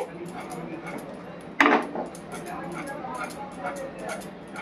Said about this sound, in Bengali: আচ্ছা আমি একটু ঝাঁকিয়ে নিচ্ছি আস্তে আস্তে করে।